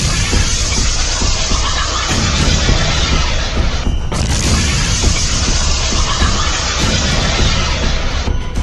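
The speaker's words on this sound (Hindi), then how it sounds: "हिजबुल्लाह के लड़ाके रमीम बैरक के पास एंटी टैंक मिसाइल फायर करते हैं और फिर होता है ये धमाका" Explosion from a Hezbollah anti-tank missile strike near a military barracks on the Lebanon–Israel border, a loud, dense roar of booming and crashing debris that continues without a break, with a short dip near the midpoint and no clear talk.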